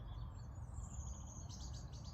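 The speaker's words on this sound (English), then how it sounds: "you can hear the birds" Woodland birds chirp and trill in high, thin bursts, with a quick run of repeated notes near the end, over a steady hum of distant road traffic.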